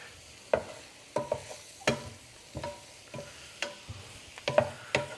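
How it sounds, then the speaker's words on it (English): A pasta casserole with greens is stirred and tossed in a frying pan. Soft, repeated scrapes and clacks of the utensil come at a fairly regular rhythm over a faint background sizzle. "Let's kind of keep tossing that like that."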